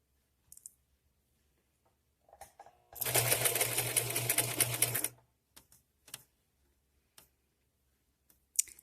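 A serger sewing with black thread runs in one steady, fast-whirring burst of about two seconds, close up, with scattered light clicks and handling noises before and after.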